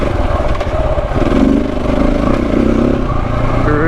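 A KTM 690 Enduro motorcycle churns slowly over rocky terrain, its single-cylinder engine a steady, loud drone with slight surges and clattering underneath, close and continuous throughout.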